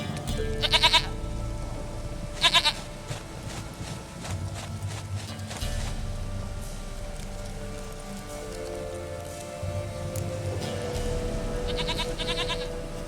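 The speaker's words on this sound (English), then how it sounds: "Goat of mine, dearest, sweetest goat." In The Witcher 3, a goat bleats twice in short quavering bursts over steady rain, with hoof clops and stormy ambience throughout.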